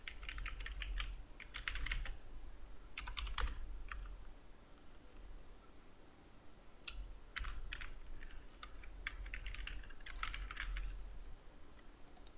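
Typing on a computer keyboard, close and fairly quiet, in several quick bursts of clicking keystrokes separated by short pauses.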